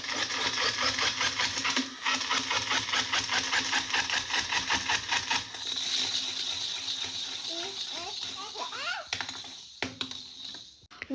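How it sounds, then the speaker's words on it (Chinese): A small battery-powered toy motorcycle buzzes and rattles rapidly around a plastic toy race track, a close, steady mechanical whirr that fades and stops with a few clicks, while people talk over it. "看我的摩托车到底能跑多少圈"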